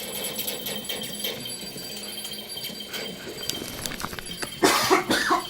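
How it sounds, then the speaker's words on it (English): A man gives a half cough, half sneeze, a sudden loud burst near the end that follows a stretch of quieter, muffled game background sound. "Half cough, half sneeze."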